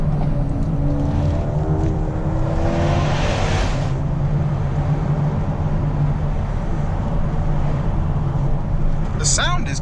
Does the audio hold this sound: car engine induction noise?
yes